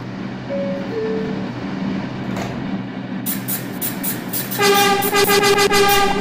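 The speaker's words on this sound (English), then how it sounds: "This is a Manhattan-bound five local train." A Manhattan-bound 5 local subway train in the Hmmsim 2 train simulator game rumbles along at Freeman Street, then a rising electric whine and harsh tonal horn-like hum builds loudly near the end.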